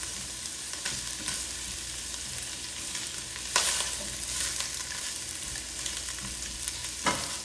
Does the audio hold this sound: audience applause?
no